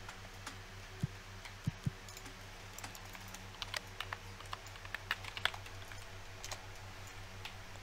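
Typing on a computer keyboard during a Roblox avatar creator session, irregular light key taps and clicks in small bursts with a few louder strikes, close and fairly quiet.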